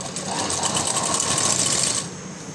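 A sewing machine runs a fine, narrow seam on a floral frock, a close, steady mechanical whir for about two seconds before stopping.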